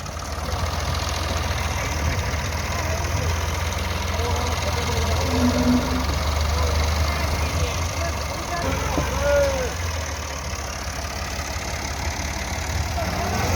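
A tractor engine runs steadily in a field, a loud, continuous low throb, heard while a truck load of maize is being pulled upright. Voices talk faintly over the rumble.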